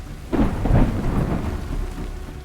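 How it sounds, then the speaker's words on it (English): A deep rumble of thunder rolls out over steady rain, loud and low, fading slowly. "Really powerful storm going on."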